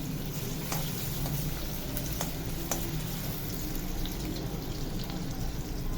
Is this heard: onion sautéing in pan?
yes